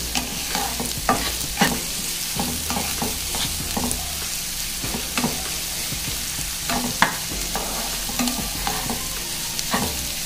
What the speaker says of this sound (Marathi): कांदा आपण 5 मिनिटं लाल करून घेऊया चांगला